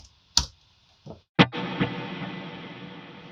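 Guitar plucks ring out through an HX Stomp delay set to 50% mix, each hit followed by a repeat, then a sustained effected tone with fading echoes.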